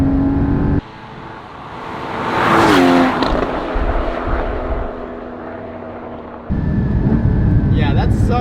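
A 2016 Porsche Cayman GT4 accelerating hard down a straightaway, its engine note climbing steadily through long gears, dropping briefly at a shift, then pulling again loud and close from inside the cabin.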